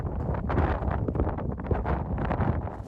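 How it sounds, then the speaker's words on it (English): Strong wind gusts batter a mountaintop in the Scottish Highlands, buffeting the microphone in loud, continuous roaring bursts. "With strong wind gusts battering the top of the mountain, we didn't hang about"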